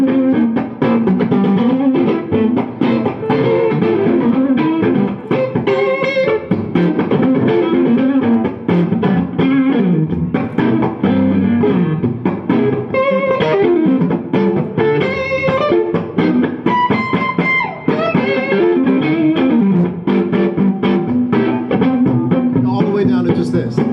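Heavily distorted electric guitar through a PRS J-MOD 100 amp plays a continuous rhythmic, bouncing chord pattern, loud and dense throughout with no pauses.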